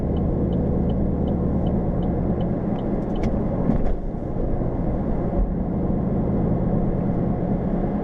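An automatic-transmission car driving along, heard from inside as a steady, even engine and road rumble with a few faint clicks.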